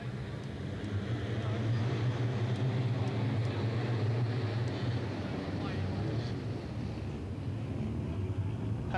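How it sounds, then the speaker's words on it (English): Two-stroke sidecar racing motorcycles pull away at a 1984 AMCA round, their engines a steady distant drone with wind buffeting the microphone, and no clear talk over them. "Now some two-strokes as they get away."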